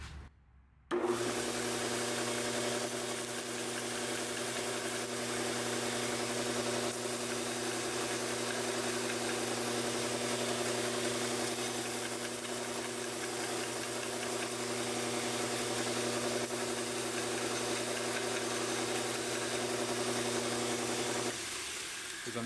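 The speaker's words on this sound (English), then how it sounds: "So we're at the belt grinder. This is a 180 grit belt." A belt grinder fitted with a 180 grit belt grinds an antique chisel, giving a steady, loud motor hum and abrasive hiss that starts abruptly and runs without a break for about twenty seconds before easing at the end.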